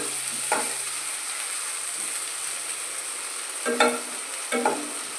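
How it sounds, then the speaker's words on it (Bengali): Spices fry with potatoes in a little oil in a pan, giving a steady soft sizzle broken by three scraping stirs, one early and two near the end, close and with no voices. "মশলাগুলো ভাজা হচ্ছে"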